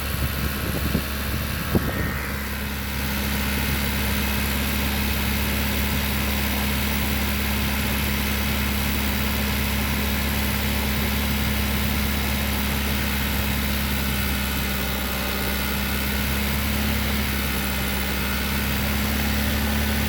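A modern car's engine held at 2000 RPM with Seafoam treatment going in, giving a steady, unbroken mechanical drone with a constant low hum, close and loud, with a short faint clatter near the start.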